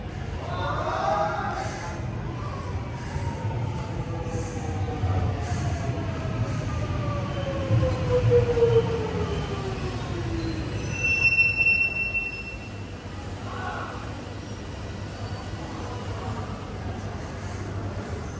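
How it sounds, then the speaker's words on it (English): A Comeng suburban train rolls into Sunbury station with long, high-pitched wheel squeals sliding over a steady low rumble, fairly close, easing off toward the end. "Here's my final train, the last 3 minutes in this station, coming to Sunbury."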